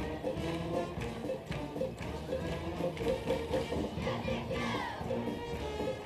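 Pontiac fans in the stands at a high school football game on a steamy night make a continuous crowd roar with shouts and cheering throughout, fairly close and steady.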